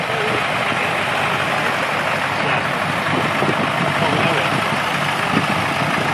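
A David Brown tractor engine rumbling in a show tractor parade, a loud steady diesel drone with dense broadband noise, under a voice talking over it.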